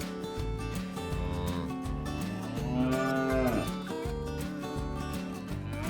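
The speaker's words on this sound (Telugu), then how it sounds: "ఇలా ఆవులన్నీ నడుచుకుంటూ పాలిచ్చే ఏరియాకి వెళ్తున్నాయి" Dairy cows walking to a milking parlour on a Canadian dairy farm moo in long, low, drawn-out calls, with a continuous droning background hum.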